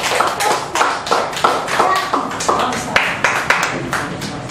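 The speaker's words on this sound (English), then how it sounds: "A warm round of applause, please." Steady applause from a small group at a Toastmasters club meeting, close and lively, with a voice speaking over the clapping.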